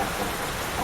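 A steady, even wash of rainfall fills the air in a continuous hiss, with a faint low rumble of thunder beneath it and no talking.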